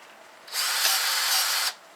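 A drill-powered grease gun pumping grease into a tie rod end, giving a single high whir for just over a second, close and clear between quiet moments.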